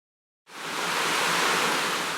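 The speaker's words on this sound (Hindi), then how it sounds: "शाही नाला में पानी जा रहा है घाटों से लेके" Drain water pours into the Ganges river at Varanasi, a dense, steady rushing roar that starts abruptly after a moment of silence and holds loud and unbroken.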